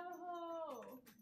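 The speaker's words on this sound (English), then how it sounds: "My dog is so loud." Pet dog making a drawn-out, whining howl, tonal and wavering, loud and close, alone without talk.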